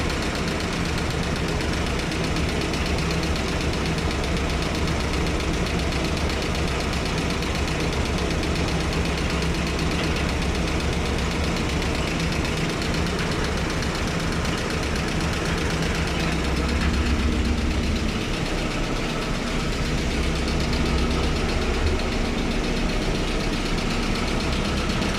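A GAZ-69 engine idles steadily and loudly for a long stretch, its rough, knocking running carrying a persistent vibration and a slight dip in speed partway through, with no voices.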